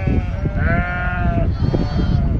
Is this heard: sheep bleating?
yes